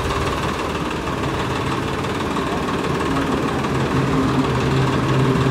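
A Swaraj 855 tractor with a side gearbox runs its engine on a test drive, a loud, continuous diesel rumble with a rough, knocking throb that holds steady throughout and has no speech over it.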